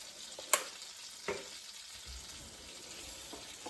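Butter melts in a frying pan with herbs for pan-fried hake in lemon-butter sauce, giving a faint, steady sizzle with a couple of small knocks, and no talking.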